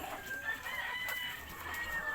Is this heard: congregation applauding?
no